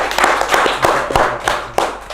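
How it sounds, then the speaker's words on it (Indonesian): Audience clapping for a young performer named Fajrul, a moderately close group giving uneven, fairly sparse claps with distinct sharp hand strikes standing out over a softer patter. "kita tepuk tangan untuk Fajrul yang anak muda yang sangat kuat mentalnya"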